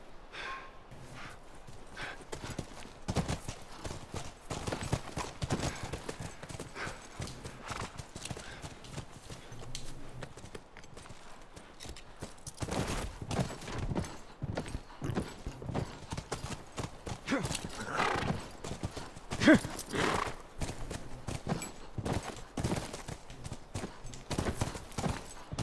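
Horses in the video game The Last of Us, their hooves clip-clopping in a steady rhythmic walk throughout, moderately close and soft, with occasional snorts under quiet game ambience.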